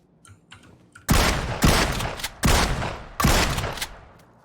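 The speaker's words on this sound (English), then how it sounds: "It might be the best sounding gun in the game. Listen to this." Four heavy, booming blasts from the DBS shotgun in PUBG fire at a slow steady pace, each followed by a short decaying tail, with faint quieter clicks before the first shot.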